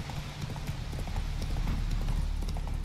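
Horse hooves trotting in The Witcher 3: Wild Hunt in a steady, brisk clip-clop rhythm over a low rumbling game background, continuous throughout.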